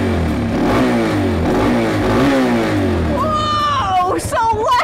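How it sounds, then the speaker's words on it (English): A motorcycle engine on display at a children's museum idles and then revs as the throttle is twisted, a loud, close mechanical roar rising in pitch. Someone talks over it, and shouts break out near the end. "When you turn this, this is what provides all the power to the engine because fuel goes into the engine."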